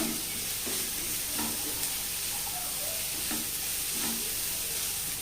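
Carrots and cabbage sauté in a pan with a constant bright sizzle, while a utensil scrapes and stirs at a loose, repeating rhythm close by.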